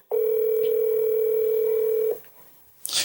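A telephone line gives a loud, steady, close dial tone for about two seconds while a call is being placed, then cuts off to near silence, with a brief noisy rustle at the very end.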